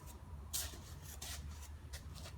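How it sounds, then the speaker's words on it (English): Hand rasp scraping across a wooden tenon during mortise and tenon joinery, a few rough rasping strokes over steady low background noise, no speech. "Take off a bit with a rasp."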